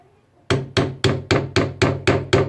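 Eight sharp, evenly spaced hammer blows on a coconut, hard and hollow, close and loud, after a brief quiet moment.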